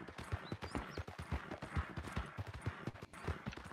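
Horse hooves clip-clopping at a steady trot in the video game Red Dead Redemption 2, a regular rhythm of close hoofbeats over game ambience, with no talk.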